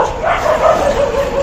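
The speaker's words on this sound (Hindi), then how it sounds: "पापा कौन भौंक रहा है मुझे देखने दो," A dog barks repeatedly in a steady series of sharp, yelping barks, close and fairly loud against a quiet background, with no talking.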